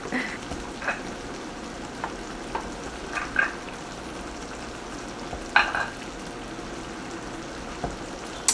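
Chorizo and peas frying in a pan while being stirred, a faint, close sizzle under scattered scraping and clinking of the utensil against the pan, with louder knocks around the middle and end.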